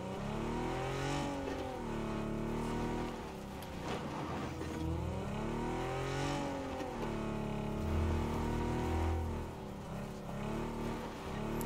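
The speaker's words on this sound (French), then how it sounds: "on va prendre le véhicule, on va essayer d'écraser" A vehicle driven in PUBG Battlegrounds, its engine droning steadily and rising and falling in pitch as it accelerates and shifts, loud and continuous throughout with no talking over it.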